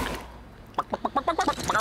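Chicken clucking in the LEGO Legacy video game: a run of about eight short, rhythmic clucks in quick succession, fairly close and clear over a low game background hum.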